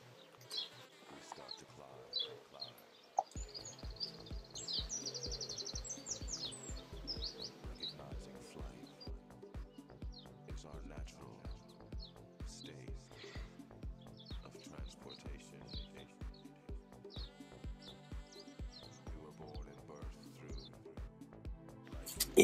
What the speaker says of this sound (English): And can you hear the birds?